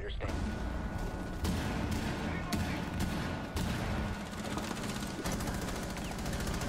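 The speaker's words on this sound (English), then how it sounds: "Where the fuck did they shoot me from? They shoot me from below" Video game shootout with rapid bursts of gunfire and fusillades crackling continuously, loud and dense, under a player's talk.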